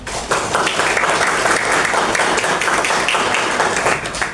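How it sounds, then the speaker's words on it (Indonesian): Classroom of students applauding a classmate, a dense, loud burst of continuous hand clapping from many people close by, sustained evenly throughout with no speech over it. "mari kita beri aplaus atau tepuk tangan pada temanmu."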